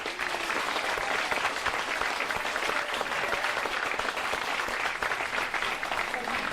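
At a candidate forum the crowd gives the panel a round of applause, dense and even clapping that continues for several seconds.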